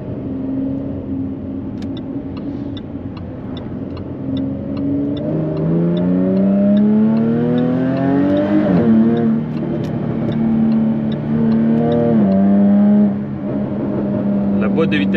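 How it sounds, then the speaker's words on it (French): A Jaguar F-Type with a 340-horsepower 3.0-litre supercharged V6 revs hard. The engine note climbs in several rising sweeps that drop back between gears, loud and close throughout, heard from inside the car. "On est vraiment sur un véhicule à caractère avec un son magnifique, ce V6 Supercharged de chez Jaguar."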